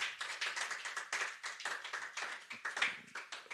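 A church congregation claps for Daniel, a fairly faint patter of hand claps in uneven bursts.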